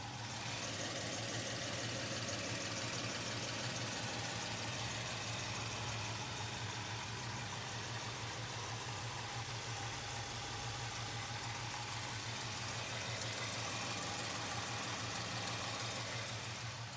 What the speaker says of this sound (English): it fires just on the button and settles down to an idle immediately